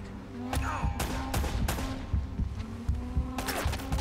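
Gunfire in the Uncharted: Drake's Fortune video game sounds as several sharp shots at uneven intervals over game music and background noise.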